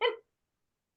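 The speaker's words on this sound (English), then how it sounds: "my dog was going crazy in the background." A single short, sharp bark from a dog in the background, loud and close, cutting off abruptly into silence.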